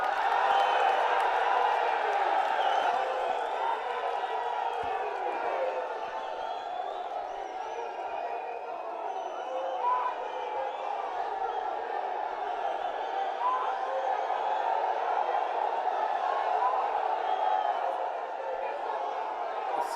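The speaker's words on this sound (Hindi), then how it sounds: "जोरदार तालियों से सब साथी स्वागत करेंगे माननीय राहुल गांधी जी का" Crowd at an INDIA alliance rally at Ramlila Maidan in Delhi welcoming Rahul Gandhi, a broad, sustained roar of cheering and clapping from a large outdoor gathering that stays steady throughout.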